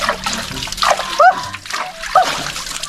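Water splashes in short, irregular bursts as someone bathes on a hot day, with sloshing and dribbling between the splashes and voices talking nearby.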